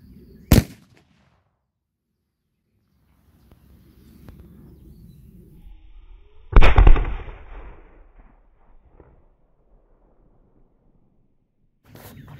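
A 5 gram Dumbum firecracker goes off buried in a kilo of flour, a single loud, close boom with a brief rumbling tail, set among quiet outdoor ambience and a few scattered pops and footsteps.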